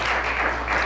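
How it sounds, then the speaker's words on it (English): A crowd gives a dense, steady round of applause at a college event, a continuous wash of many clapping hands heard close, with no voices over it. "Can we get another round of applause for these people while I collect myself?"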